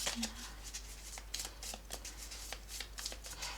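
Tarot cards being shuffled by hand during a reading, a soft repeated riffling and flicking close by, quiet, with a faint voice murmuring briefly.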